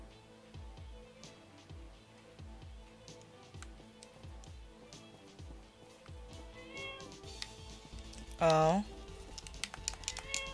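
A cat meows once, a rising harmonic cry standing out near the end over steady background game music and light ticking sounds, while a person talks nearby.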